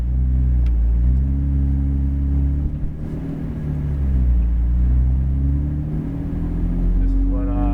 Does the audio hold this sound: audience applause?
no